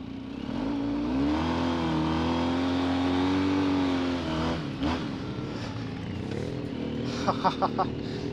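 Yamaha XTZ 750 and BMW F650 GS Funduro motorcycles riding off-road on a slippery trail, a loud close engine drone that rises and settles, with quick revving blips near the end.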